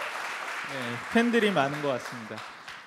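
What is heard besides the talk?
audience applause at conference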